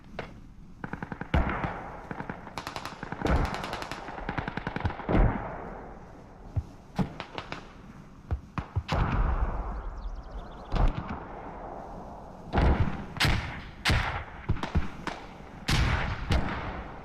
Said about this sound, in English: Once again, mortars coming in.